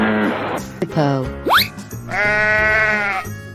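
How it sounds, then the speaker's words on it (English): Sheep bleat in a children's animal transformation piece, a wavering nasal call near the start and a longer drawn-out bleat at the end, with a quick whistle-like sweep between, close and clear. "Sheep."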